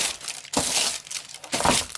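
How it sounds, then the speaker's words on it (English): Parchment paper is crinkled and crumpled by hand in a kitchen while baking cranberry muffin cookies, giving close, crisp bursts of rustling in quick handfuls with brief pauses between. "You hear me crinkling up the parchment paper."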